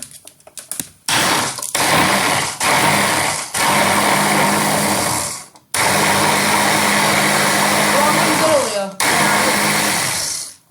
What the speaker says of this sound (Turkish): Evet ben şimdi bunu biraz daha çırpacağım.